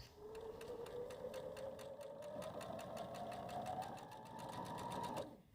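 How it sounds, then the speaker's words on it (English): A sewing machine stitches fabric for a pillow in a steady run of rapid, even needle clicks with a rising motor whine, stopping abruptly near the end, close and fairly quiet. "I'm going to stitch 1/4 inch away from the line on each side. Let's go ahead and sew that."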